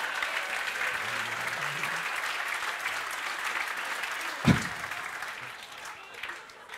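Studio audience at a Swedish talk show applauds as a politician comes up from the seats, steady clapping throughout with a faint voice and one sharp thump partway through.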